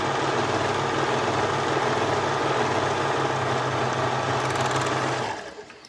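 Sewing machine stitching knit fabric for a twisted knot skirt, a steady fast mechanical whir running continuously for about five seconds before slowing and stopping, with no talking.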